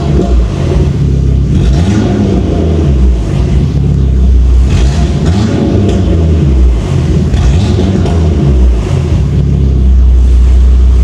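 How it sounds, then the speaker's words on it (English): Loud, close car engine with deep, rumbling revs that rise and fall, continuous throughout with no talking. "Right, I'll give it a couple of revs, and then we'll you can hopefully hear it."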